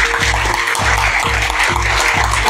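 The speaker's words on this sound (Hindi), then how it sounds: "इनके लिए जोरदार तालियां हो जाए भाई एक बार यार" A large audience at a student session claps loudly for the tech team, a dense, continuous roar of applause with a regular low thumping beat running underneath throughout.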